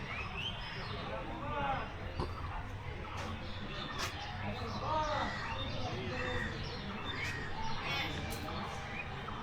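Assorted bird chirps and calls, including mynas and parrots in a zoo aviary at Rangpur Zoo, ring out at moderate distance amid murmuring voices and a busy outdoor crowd.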